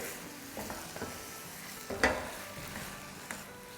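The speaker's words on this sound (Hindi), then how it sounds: "2 टेबलस्पून कतरी हुई बादाम, 1 टेबलस्पून किशमिश। इसके साथ अच्छे से भूनेंगे।" Chopped almonds and raisins roasting in a pan, with a faint, soft sizzle and a few scattered scraping stirs, one brief sharper clatter of the spoon midway, all quiet and close.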